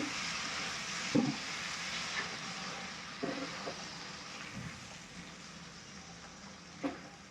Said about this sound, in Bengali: এখন আমি মশলার সাথে টমেটো পেস্টটাকে ভালো করে কষিয়ে নিচ্ছি।